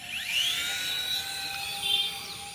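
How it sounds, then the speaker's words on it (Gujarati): A toy helicopter's small electric motor whines up as it starts to fly, a high rising and wavering buzz held close and loud, with no voices over it. "તો आज હેલિકોપ્ટર ઉડશે।"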